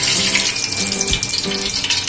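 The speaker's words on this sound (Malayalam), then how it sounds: "നമുക്ക് വെളിച്ചെണ്ണ വീക്കാം." Coconut oil pours into a hot pan on a home stove, giving a steady liquid splash and light hiss that stays even and close for the whole couple of seconds, with no talking.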